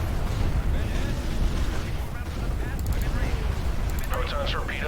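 Ion cannons firing in the space strategy game Star Wars: Empire at War, a dense, continuous booming barrage under game voices and radio chatter, with sharper electronic zaps near the end.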